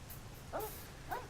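A designed dog in the video game Xenoblade Chronicles X gives two short, soft yips about half a second apart, fairly faint over a steady low background hum.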